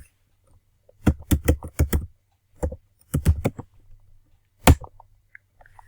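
Keys clatter on a computer keyboard as a PowerShell command is typed, close and crisp, in three quick bursts of rapid taps separated by short pauses, with a single last keystroke near the end.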